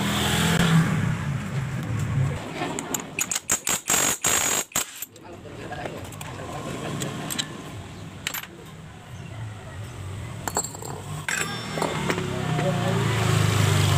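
Honda Scoopy FI scooter engine running with a rough sound: a steady, loud close drone broken by a burst of choppy stutters midway, then building louder toward the end, with a voice faintly present.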